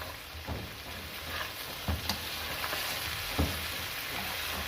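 Onions fry together with okra in a pan for a dhaba-style bhindi masala. A low, even sizzle continues throughout, with a few soft knocks from stirring.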